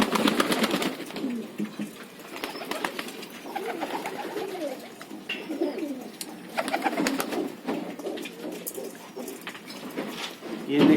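Pigeons cooing at home, with Madrasi and Punjabi breeds kept as pairs. Soft repeated coos and murmurs sound close, under faint background noise.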